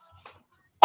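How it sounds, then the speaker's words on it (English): A single loud cough bursts out near the end after a few faint murmurs, from someone smoking cannabis who had been trying to hold the cough back. "I think it's because I try to hold back my cough."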